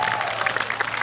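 Audience applause at an outdoor summer solstice folk dance performance in Keila, steady dense clapping from a crowd throughout, fairly loud and continuous with no talking.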